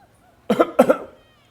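Two quick, harsh coughs close to the microphone, one right after the other, with quiet background around them.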